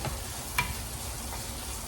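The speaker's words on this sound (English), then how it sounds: "So there we are having a nice sizzling to eat." Onions and potatoes with spices fry steadily in a pan, a soft continuous sizzle with a single clink of a utensil partway through.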